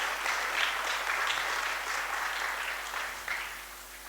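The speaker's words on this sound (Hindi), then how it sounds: "बजा दो ताली बस" An audience in a religious discourse hall in Chhatarpur claps steadily throughout, a dense continuous applause at moderate distance with no talking.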